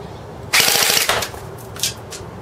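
A CYMA Desert Eagle airsoft electric pistol (AEP) firing full auto: a fast, close rattling burst of BBs for about half a second, then a few short separate bursts, with no talking.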